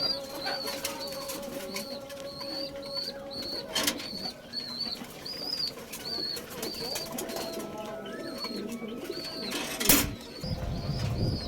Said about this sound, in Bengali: মাশাআল্লাহ খুব সুন্দর কবুতর দেখতেই পাচ্ছেন